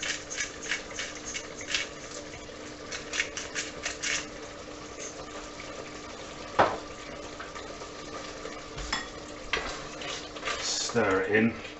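Seasoned chopped tomatoes stirred in a pot for khashlama, with soft scraping and sloshing strokes, a gentle simmering sizzle and occasional utensil knocks against the pot, close up and fairly quiet.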